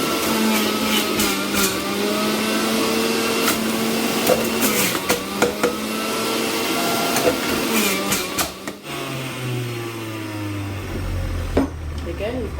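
An electric juicer whirs and grinds through apples for a green detox juice, a loud buzzing motor with shifting pitch and intermittent crunching knocks, close by, with the motor note dropping toward the end.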